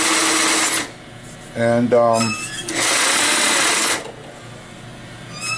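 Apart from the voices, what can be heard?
sewing machine stitching a barrel bag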